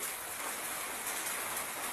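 Steady rain falls in a dense, even hiss, close and continuous with no breaks and no voices over it.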